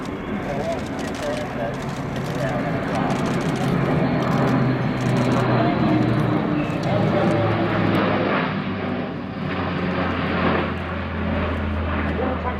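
An Airbus A400M Atlas military airlifter flies a display at the RIAT 2019 airshow at RAF Fairford, its turboprop engines a loud, sustained roar that swells and shifts as it manoeuvres overhead.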